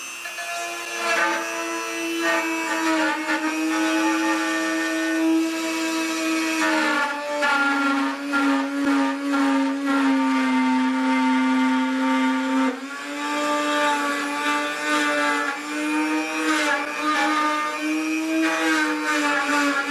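A power router cuts a purfling channel along the bevel of a classical guitar body during binding work. It gives a steady, close, high whine that dips slightly in pitch as it bites into the wood, and it runs without a break.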